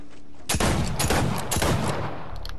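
Rapid bursts of pistol gunfire in a Fortnite match, several loud close shots in quick succession over roughly two seconds.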